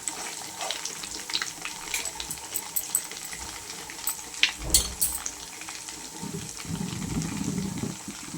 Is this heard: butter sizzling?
yes